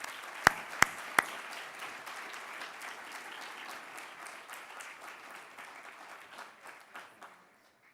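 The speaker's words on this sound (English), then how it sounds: "please, if you will put your hands together and join me in welcoming the extraordinary Dr. Alaa Murabit to the stage" A large audience applauds to welcome Dr. Alaa Murabit onstage at the 2017 Hilton Humanitarian Prize ceremony: a few sharp claps open a steady, dense wash of clapping that slowly thins and fades out near the end.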